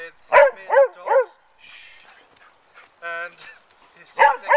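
Dogs bark excitedly beside a stove, a close burst of three sharp barks, then softer whimpering and yips, with a final cluster of loud barks and a person talking in between.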